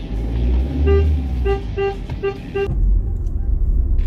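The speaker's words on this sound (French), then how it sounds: "Il nous klaxonne." A car horn honks in a series of short repeated toots over a running engine and traffic noise, close by and fairly loud.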